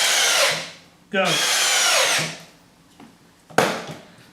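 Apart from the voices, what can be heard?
Milwaukee and Bosch drill/drivers running in a speed test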